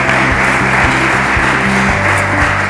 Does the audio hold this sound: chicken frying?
no